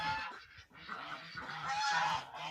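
Several domestic ducks, drakes and hens, quack and honk close by in an overlapping, continuous chorus, with no voices.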